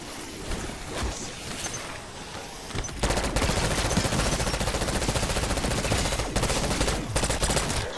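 Rapid, sustained gunfire from a high fire-rate gun in Black Ops 6, a dense unbroken stream of shots that sets in after a few seconds of quieter game noise and stays loud to the end.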